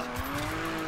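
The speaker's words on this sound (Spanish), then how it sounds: "¡Este derrape pasará a la historia!" Car drifting in Need for Speed Payback, tires skidding and squealing over a steady engine drone, a brief, loud and close burst with no talking over it.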